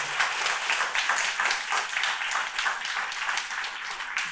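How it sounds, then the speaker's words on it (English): A conference audience applauds steadily, dense overlapping clapping filling the room at an even level throughout, with no voices over it. "One big round of applause to Charles."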